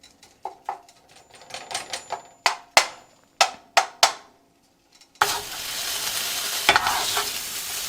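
Grouse pieces dropped into hot oil in a pan set off a sudden, steady sizzle, after several sharp clicks and clatters of utensils against cookware, with no talking.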